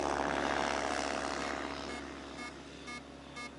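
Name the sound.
tug aircraft towing a light glider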